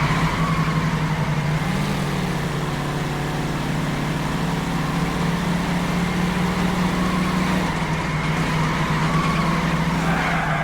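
A car in L.A. Noire drives hard with a steady, loud engine drone and tires squealing through skids, with no talking over it.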